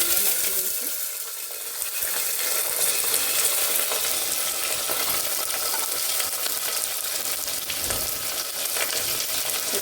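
Chopped tindora dropped into hot oil tempered with mustard seeds and asafoetida, frying with a steady, loud sizzle and crackle throughout, with occasional stirring clinks of a spoon against the pan.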